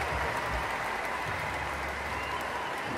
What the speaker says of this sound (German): Ich bedanke mich für den Applaus